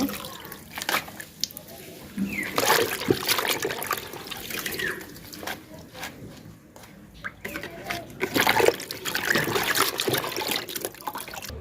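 Malabar spinach leaves are rinsed under running water, an uneven trickle and splash with wet rustling of the leaves, close by, while a voice talks over it.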